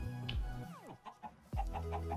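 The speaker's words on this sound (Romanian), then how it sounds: "Găini. Ia găinile." Chickens in Minecraft, a few short synthetic clucks over looping game music, close and clear.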